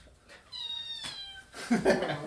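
A pet cat gives a clear, drawn-out meow and then a shorter rougher one, close by and moderately loud, set against low room noise.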